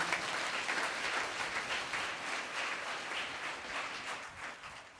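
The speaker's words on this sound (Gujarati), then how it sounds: "હાથ ઊંચા કરીને તાળી પાડો બધા" An audience at a religious gathering clapping with raised hands, a dense, sustained round of applause from a large crowd that carries on steadily for several seconds.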